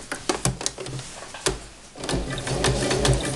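A sewing machine stitches the bottom edge of a fabric face mask, starting with a few clacking stitches, then settling into a steady, close, continuous whir.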